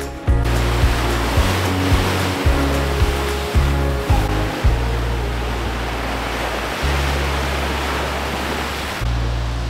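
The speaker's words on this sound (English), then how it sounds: "the water splashes up against the rocks and splashes way up in the air" Steady roar of Lake Michigan water surging against shore rocks at Cave Point County Park, Door County, Wisconsin, loud and continuous, with heavy low wind rumble buffeting throughout and no voices.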